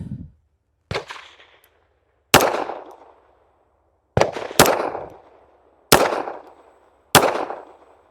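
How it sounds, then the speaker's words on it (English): Beretta pistol firing .380 ACP rounds: six sharp, loud shots spaced irregularly over several seconds, each ringing out briefly before silence, with no talking. "All right, we got the Beretta. Let's shoot it."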